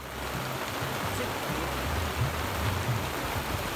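Rain pours down outdoors at a fishing spot, a dense, steady hiss that stays even and fairly loud from start to finish, with a faint low rumble underneath.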